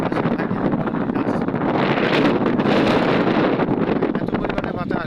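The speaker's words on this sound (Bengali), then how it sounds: "এত পরিমাণে বাতাস" Strong storm wind roars in steady, dense gusts across an icy outdoor spot near the sea where a tree has fallen, buffeting the microphone loudly and continuously throughout.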